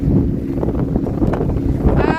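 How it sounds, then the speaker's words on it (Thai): Dry wind gusts steadily across an outdoor microphone in a rural village setting, a continuous low rumbling buffet that stays loud throughout, with faint voices underneath. "ลมแห้งอย่างนี้เนาะ"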